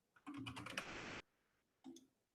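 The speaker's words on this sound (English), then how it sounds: "you do Windows R to open up the Run tab, and you type in regedit" Quick burst of typing on a computer keyboard, rapid close clicks of several keys in a row, then a brief pause and one or two more keystrokes, no talking.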